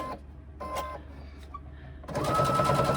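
Sewing machine top stitching a handle for a reversible tote, starting with short stop-start bursts and then running in a louder continuous whir.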